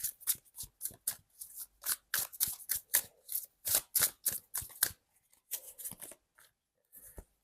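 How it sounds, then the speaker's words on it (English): Tarot cards are shuffled and pulled, giving a run of crisp, close card snaps and flicks in an irregular rhythm with short pauses, and no voices. "let's pull cards for you guys"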